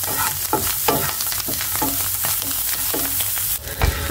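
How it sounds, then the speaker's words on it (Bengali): Shrimp sizzle steadily in hot oil in a pan, with a regular rhythm of stirring strokes and scrapes of a utensil cutting through the continuous frying hiss. "আমি চিংড়ি মাছগুলো ভালোভাবে ভেজে নিব।"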